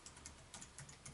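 Quick, light keystrokes on a computer keyboard as a web address is typed in, a rapid irregular run of soft clicks, close and quiet.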